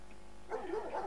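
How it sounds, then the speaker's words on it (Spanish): Two small dogs barking near a window indoors, a short burst of a few yips and barks starting midway through, fairly faint and slightly distant, with no talk over them. "Tengo dos perritos."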